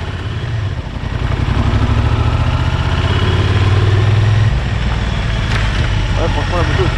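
A Honda Transalp 750 motorcycle engine thrums loudly and steadily while riding, its revs swelling a little in the middle, with wind noise mixed in.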